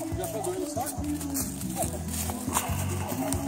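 A horse's hooves clip-clop on the ground of a countryside farm as a rider works on keeping straight in the saddle, a rapid rhythmic beat under a voice.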